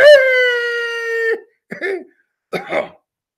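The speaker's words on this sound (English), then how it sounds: "My dog just ran off." A loud, drawn-out dog howl holds one wavering pitch for over a second, then two short, rough bursts like coughs or whimpers follow, with silent gaps between them and no speech.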